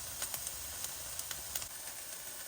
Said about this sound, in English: I'm going to saute it up for just a couple minutes on a low to medium low heat